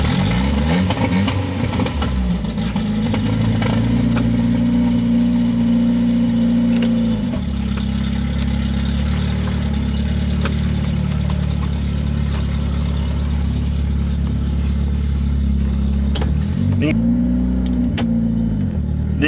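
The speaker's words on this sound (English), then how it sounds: "The exhaust is still really bad on it, so it's pretty loud and not in a good way." A 1978 Datsun 510 wagon on 13-inch wheels with a badly failing exhaust drives along, its engine droning loud and rough with rising revs, a brief lull and pickup near the end.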